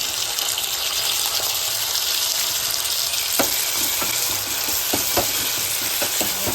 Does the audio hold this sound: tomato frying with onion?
yes